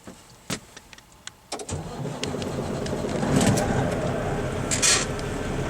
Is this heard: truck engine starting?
yes